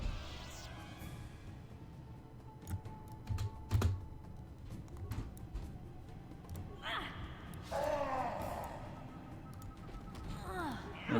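Mouse and keyboard clicks while playing Star Wars: Knights of the Old Republic, steady close clicking and tapping throughout, with game sound effects and music swelling underneath.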